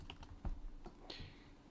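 Computer keyboard typing heard up close: a short burst of irregular key clicks with no talking, captured while someone is coding in C++.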